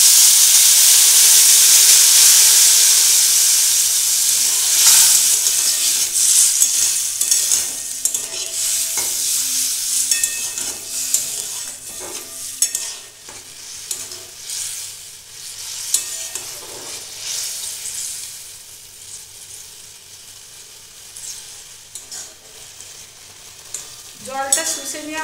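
Sugar syrup hits browned fried vermicelli with cashews and raisins, first a loud rushing hiss of steam that fades over several seconds, then repeated scraping stirs and softer bubbling sizzle up close.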